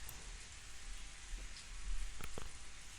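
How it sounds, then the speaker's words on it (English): Rain pours down in the Umineko visual novel game, a faint, steady hiss of falling water with a few soft drop-like ticks near the end. "It seemed to be pouring down thickly."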